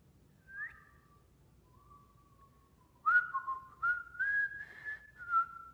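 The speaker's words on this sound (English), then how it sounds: "Who's whistling?" A person whistles a short tune, a faint brief note first, then a clearer, louder melodic run of several notes toward the end.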